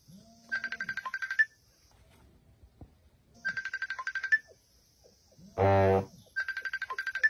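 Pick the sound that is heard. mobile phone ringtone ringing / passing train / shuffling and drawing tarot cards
mobile phone ringtone ringing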